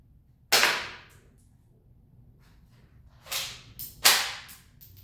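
Nerf blaster fired point blank into cardboard: three sharp snapping bursts, one alone and then a quicker pair, each close, loud and crisp with no talk.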